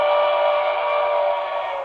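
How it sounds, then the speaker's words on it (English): A model Pennsylvania Railroad S2 steam turbine locomotive's horn blows one steady, reedy note, held for a couple of seconds, close and fairly loud. "That's the horn."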